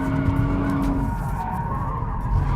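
A 2014 Porsche Cayman S skids through a drift, with a loud, continuous tire squeal and steady engine noise that starts with a sharp tonal screech and fades into broadband scrubbing, close and without talk.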